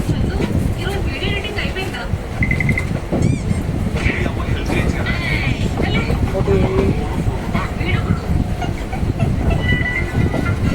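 A train rolls past Coimbatore railway station on a Tamil Nadu journey, a loud continuous rumble and clatter with short horn or whistle tones and squeals breaking through, while people talk over it throughout.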